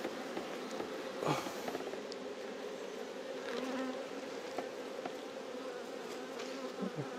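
Honeybees at a beehive make a dense, steady droning buzz, a continuous close swarm hum with occasional louder individual bees passing near.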